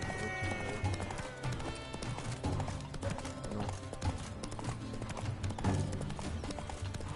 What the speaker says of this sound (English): El caballo sigue.